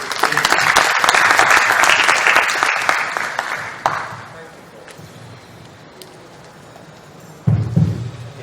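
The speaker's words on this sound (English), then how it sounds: "So if you can join me in clapping for them, I would really appreciate it" A forum audience claps for an internet freedom panel in dense, steady applause that fades after a few seconds into quiet room noise, ending with a brief low rumble.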